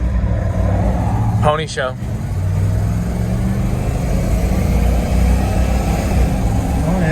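A 1994 GMC Sierra pickup with a factory 305 V8 pulls through the gears, the engine droning loud and steady from inside the cab while someone briefly speaks over it early on.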